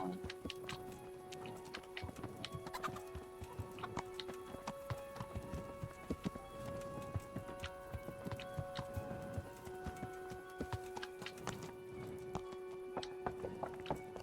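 In the video game Kingdom Come: Deliverance, steady clip-clop of horse hooves at a trotting pace, with faint tonal background and scattered ticks, no voices.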